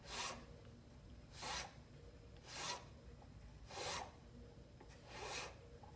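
A file rasps across a wax wedding ring blank as it is spun, five separate scraping strokes coming at a steady pace, close and fairly quiet with low background hum between them.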